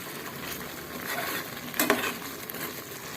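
Cooked white cowpeas mashed in a pan for a sweet jaggery sundal, giving a soft continuous scraping and sizzling texture with one brief louder clatter partway through, no voices.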